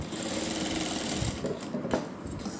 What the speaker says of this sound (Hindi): अब हम इसकी दूसरी तरफ भी सिलाई लगा लेंगे